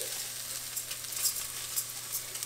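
Risotto rice and shallots sizzle in a pan while being stirred, a steady bright hiss close by with small scraping bursts and no talking.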